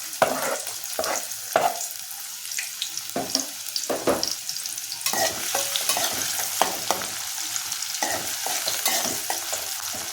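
Thinly sliced onion hits hot oil for a crab curry, giving a loud sizzle under a run of irregular scraping and clattering spoon stirs against the pan.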